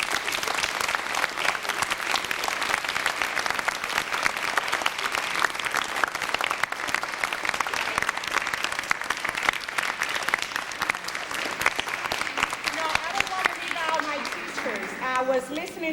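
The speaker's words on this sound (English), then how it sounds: "that deserves a big hand of applause" School event audience giving a long round of loud, dense applause that stays steady throughout, with voices rising faintly near the end.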